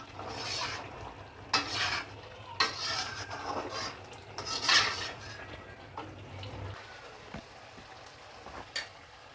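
Chicken karahi stirred and roasted in a wok, repeated raspy scraping strokes over a steady low frying hiss, near and fairly loud, with irregular bursts every second or so.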